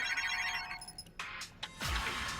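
A phone rings with a bright, repeating electronic tone, then breaks off into clattering movement and a low thump.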